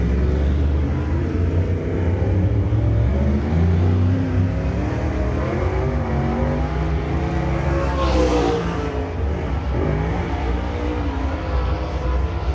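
Several super late model race cars rumble at low speed onto the track at Shelby County Speedway for qualifying, a steady, loud, layered engine drone with a brief swell as one passes closer.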